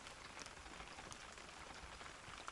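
Rain falls steadily onto the ground and a shelter roof beside a forest hunting cabin, making a faint, even hiss of drops with no other sounds.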